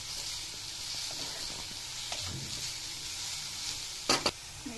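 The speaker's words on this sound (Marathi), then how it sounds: "गूळ पूर्ण विरघळवस्तोपर्यंत हे व्यवस्थित हलवून घ्यायचं" Jaggery melting in a pan for steamed modak filling, stirred steadily with a spoon: a continuous soft sizzle and bubbling, with a brief louder scrape against the pan near the end.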